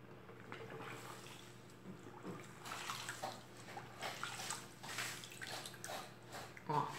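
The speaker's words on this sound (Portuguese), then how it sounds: "Eu vou lavar a esponja." A kitchen sponge being washed in a basin of water while making homemade liquid detergent from bar soap: faint, soft splashing and sloshing with a few drips and trickles, rather quiet and close.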